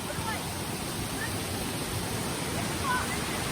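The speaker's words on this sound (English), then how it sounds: "look at this grand waterfall back here" The Kuang Si waterfall near Luang Prabang, Laos, pours into limestone pools and gives off a steady, broad rushing roar. It is loud and constant throughout.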